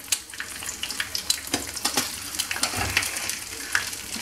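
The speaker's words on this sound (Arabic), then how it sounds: "كنديرها في مقله فيها غير شويه ديال الزيت، من بعد ما طيب لينا شي مده كتحمر" Pastry frying in a pan with just a little oil, a steady close sizzle with scattered crackles and pops running throughout, no talking.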